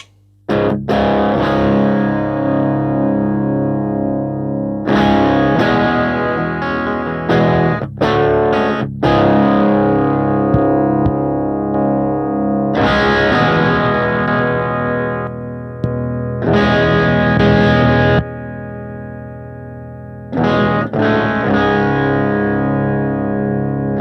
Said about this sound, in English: Let's see what the Bogner sounds like.